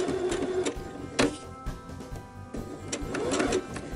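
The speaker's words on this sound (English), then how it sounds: "we're going to sew in 1/4-inch seam allowance" A sewing machine runs a quarter-inch seam allowance with a back tack at the start, giving short whirring bursts with brief pauses and clicks, close and moderately loud.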